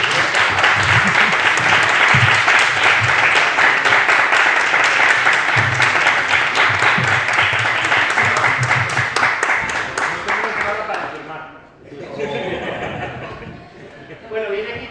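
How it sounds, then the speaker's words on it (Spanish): Audience at a comic channel presentation in Asturias bursts into loud, sustained applause with chatter and some laughter mixed in, fading near the end before scattered clapping resumes. "agradecerles con un fuerte aplauso su presencia aquí"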